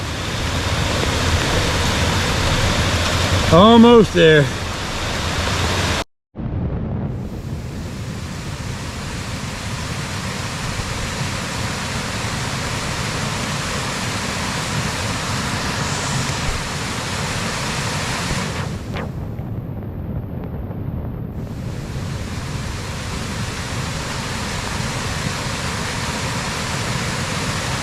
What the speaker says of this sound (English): Beautiful waterfall, Garnell Creek here.